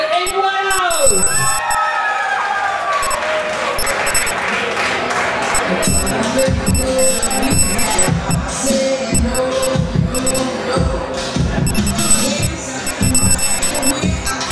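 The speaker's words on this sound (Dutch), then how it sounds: "Geef maar een grote applaus, dames en heren, Amy Wiles!" Applause and crowd noise for performer Amy Wiles at a 2013 youth playback show prize ceremony in De Wilp. Clapping and crowd sounds swell with a steady, dense texture, with tonal music-like sounds at the start and voices mixed in.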